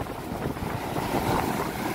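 Strong storm wind buffets the microphone over big rough sea waves, a continuous loud broadband roar of wind and surging water with no talking.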